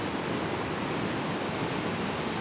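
Water from a waterfall rushes out beneath old buildings built over the falls in a Swedish town, a steady, dense roar of white water that fills the whole moment with no voices.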